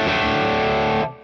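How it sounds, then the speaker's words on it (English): A distorted electric guitar chord rings through a reverb effect set to zero density, sustaining steadily and loudly for about a second before cutting off abruptly. "Density is how dense you want the reverb."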